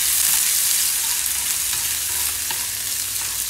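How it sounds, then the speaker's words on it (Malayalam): Coconut pieces fry in ghee with a steady, close crackling sizzle, a dense continuous hiss with small pops running throughout and no voices. "കൊത്ത് നെയ്യിൽ മൂപ്പിച്ച് എടുക്കണം"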